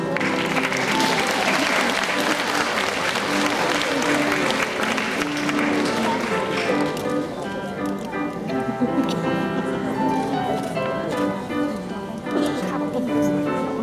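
Sustained applause from a large audience fills a hall at a primary school graduation ceremony honouring award-winning students, steady clapping throughout with voices talking beneath it.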